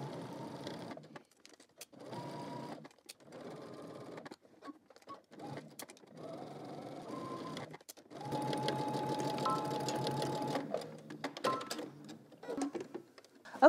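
A sewing machine stitches a bra cup slowly around curves in short bursts separated by pauses, then runs a longer continuous stretch, close and clear with no talk.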